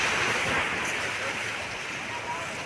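Sea waves washing onto the shore, a constant broad hiss of surf mixed with wind buffeting the microphone, fairly faint and steady with no clear breaks.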